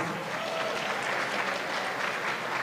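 An audience at a Ramadan iftar fundraiser gives a round of applause for the organisers, a dense, even patter of many hands clapping throughout the short stretch.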